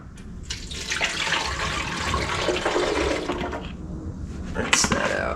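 Running water rinsing out a part being cleaned with white vinegar during work on a 1974 Yamaha Enduro dirt bike, a steady splashing gush that holds for several seconds.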